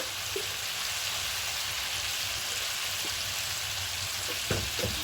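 Chicken frying in a pan with ground coriander, cumin, chilli powder and ginger-garlic paste, a dense steady sizzle up close with a few soft stirring knocks near the end.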